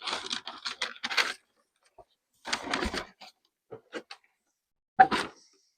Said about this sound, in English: Sorry about all the rustling of all the packaging